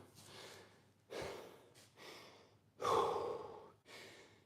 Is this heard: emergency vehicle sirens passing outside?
no